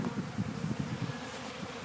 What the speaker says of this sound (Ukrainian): О, так гарно бджола літає